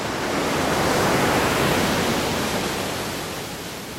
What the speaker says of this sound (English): waves will come up and catch you real quick